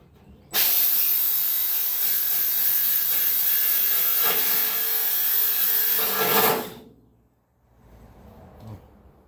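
A belt grinder sands metal on a truck cab during welding repairs, a loud, steady abrasive roar that runs for about six seconds and then cuts off, leaving near silence.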